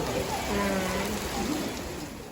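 Steady rain falling on an Asakusa shopping street in Tokyo during a thunderstorm, a dense continuous hiss with some faint voices mixed in.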